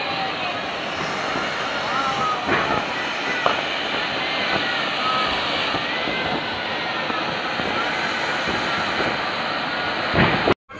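A lit Diwali firework fountain (zhaad) gives a steady broad hiss with a few sharp crackles, then cuts off abruptly at the end.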